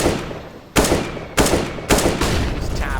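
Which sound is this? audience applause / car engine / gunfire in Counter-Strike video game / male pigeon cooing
gunfire in Counter-Strike video game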